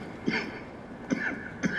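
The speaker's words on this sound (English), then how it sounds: "This time he sounds sick and starts coughing a lot." A sick man coughs in a voicemail in the video game Zed, three separate raspy coughs spaced about a second apart, close and moderately loud.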